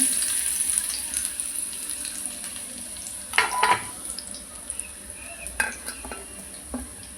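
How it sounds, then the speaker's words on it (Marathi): Chopped garlic dropped into hot oil in a kadai for an egg chilli dish, a low steady sizzle with a burst of crackling and utensil clatter midway and a few later stirring clinks. "थोडंसं मी तेल काढून घेतलं त्यामध्ये घालते मी चॉप केलेली लसूण"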